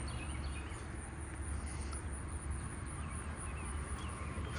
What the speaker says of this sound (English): Southern ground crickets.